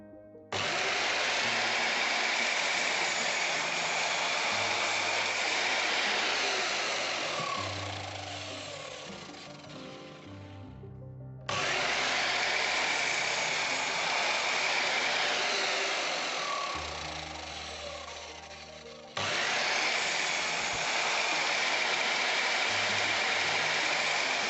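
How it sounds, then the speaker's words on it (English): A miter saw cuts a series of grooves in wood: three loud, close bursts of high whining motor and cutting noise, each spinning down before the next cut starts. "I'm going to do this with the chop saw here, or the miter saw, and I'm going to cut a series of grooves"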